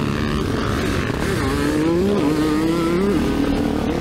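A 2024 Kawasaki KX450 motocross bike riding on a dirt track at Eugene MX, its engine a continuous loud drone whose pitch rises and falls as it revs through the gears, heard up close.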